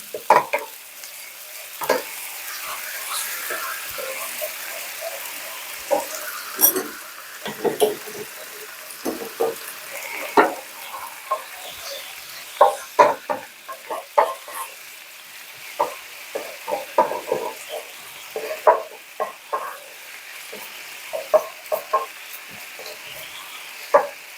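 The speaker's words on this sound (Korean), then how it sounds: "물 두 스푼, 식초 하나, 설탕 하나 넣는 거, 넣어줍니다. 자, 좀 졸여줍니다." A sauce of water, vinegar and sugar reduces in a hot pan for kkanpunggi, sizzling and bubbling softly while a utensil scrapes and stirs in irregular clicks and taps, close and steady without speech.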